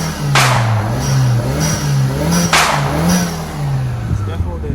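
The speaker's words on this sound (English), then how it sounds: "I feel that's definitely the induction noises" Car engine with prominent induction noise, a low droning intake hum that rises and falls under steady cruising, with two sharp whooshing bursts standing out, heard from inside the car.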